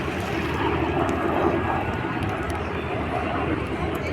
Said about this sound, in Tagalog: umiikot po yung helicopter dito, yung Black Hawk oh